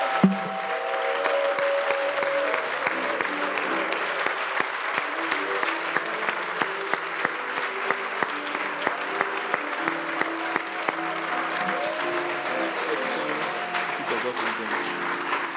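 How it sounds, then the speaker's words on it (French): A congregation at a Christian gathering claps steadily and loudly throughout, a dense wash of applause with scattered sharper claps over a sustained crowd roar. "tu dois acclamer fortement pour le Saint-Esprit"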